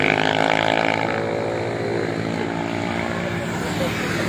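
A Yamaha NMAX scooter races past on a road at Marilaque, its engine note loud and droning steadily throughout with a slight fade, under background voices.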